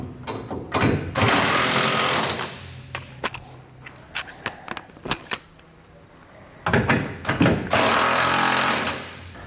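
A power tool snugs down hardware bolts on a Curt trailer hitch receiver on a 2009 Chevrolet Silverado, two loud sustained buzzing runs with rattling clicks and clanks of handling between them.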